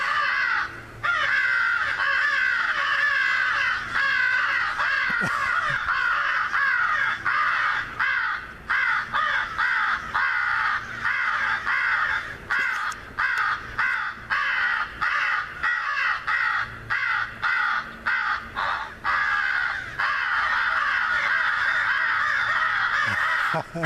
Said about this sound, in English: This is more crows than I've seen around my place in a while.